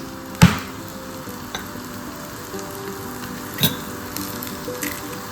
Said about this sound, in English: I'm going to scramble my eggs.